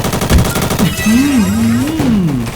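Loud, rapid bursts of automatic gunfire from the Roblox game Gunfight Arena rattle for about a second, then give way to a sliding electronic tone.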